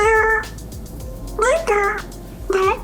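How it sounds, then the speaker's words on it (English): AI-generated cat meows, three distinct close, loud mewing calls with short pauses between them. "It's cat syncing to cat noises."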